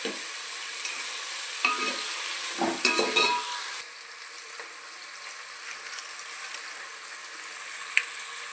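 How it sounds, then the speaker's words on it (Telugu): A ladle stirs a pot of frying food for chicken pulao, giving a steady sizzle with scraping clinks of metal early on, then continuous crackling frying on its own. "గరిటి తిప్పుతుంటే సౌండ్ వస్తుంది."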